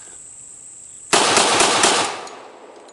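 An ATI M1911 .45 pistol fires a quick string of shots in about a second, loud and close, with the echo fading out after a quiet pause.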